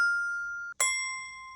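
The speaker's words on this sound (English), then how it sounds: "Let's try the next two bells." Two Montessori grading bells ring one after another: a clear sustained metal tone decays, then a brief pause before a sharper, brighter strike rings out with long shimmering overtones, close and alone.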